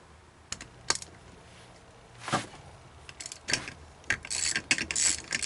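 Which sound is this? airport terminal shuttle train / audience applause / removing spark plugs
removing spark plugs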